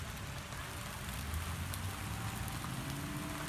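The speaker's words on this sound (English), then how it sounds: "it is pouring down rain" Heavy rain pouring onto the ground outdoors near a street and park, a dense, constant hiss of drops that stays loud and even throughout.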